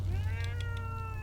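Molly, a pet cat, meows steadily and close up for about a second, a clear drawn-out call with a low hum underneath and no talking.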